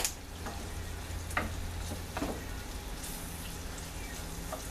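Onions and garlic fry in bacon grease for crock pot chili, producing a faint, low sizzle broken by a few scattered pops and stirring scrapes.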